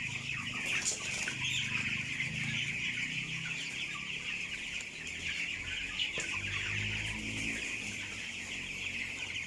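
Sixteen-day-old broiler chickens cluck and chirp in a dense flock inside a grower house with a tarpaulin curtain, a steady layered chatter with occasional wing flaps, fairly close and continuous.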